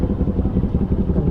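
A Kawasaki Z400 with an AR aftermarket exhaust rumbles at a low, steady idle, close by and alone for a short moment, with a slightly uneven throbbing pulse.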